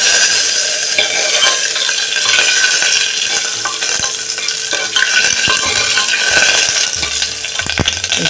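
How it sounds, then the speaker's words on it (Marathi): Curry leaves, bay leaves and a rice leaf sautéing in hot oil in a pan for a Brahmin-style spiced rice dish, giving a loud, steady sizzle with stirring scrapes throughout. "ही कढीपत्त्याची 1 फांदी, ही तमालपत्राची 2 पानं आणि हे भाताचं 1 पान। हे आता असं मिनिटभर परतून घेऊया।"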